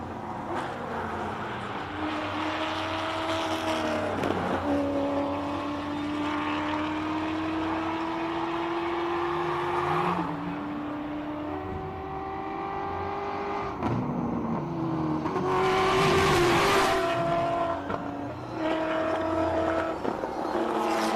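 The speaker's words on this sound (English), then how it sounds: "let's just listen to this sheer symphony of the electric car" Electric Mini race car at a hillclimb, a steady whining motor drive that rises and falls in pitch with speed, close and continuous, with no voices.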